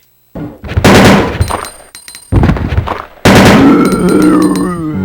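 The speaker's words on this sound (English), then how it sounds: "Now let me test this new improved handgun on a zombie." Improved handgun from Resident Evil 2 fired at a zombie, three loud, sharp shots spaced roughly a second apart, each followed by a short ringing decay and impact sounds.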